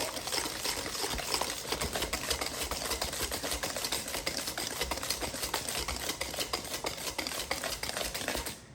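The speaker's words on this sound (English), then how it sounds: "I'm going to whisk in the chocolate" A whisk beats melted chocolate into brownie batter in a bowl, producing rapid, steady clicking and wet slapping strokes that keep going close by without pause.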